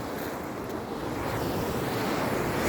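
Broad, steady roar of fast-flowing river water pouring through the Gaula barrage near Kathgodam, Uttarakhand, mixed with wind buffeting the microphone, continuous and loud with no talk.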